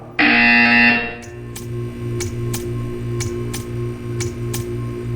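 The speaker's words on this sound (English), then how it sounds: "You will hear a buzzer." A loud, harsh electronic buzzer blares for about a second, then gives way to a steady, quieter ticking with a low background hum.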